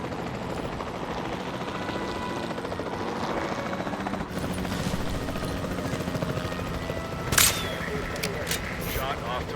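Helicopter in Jurassic World Evolution 2, a steady rotor and engine drone running the whole time under game sounds, with a sharp shot-like burst near the end.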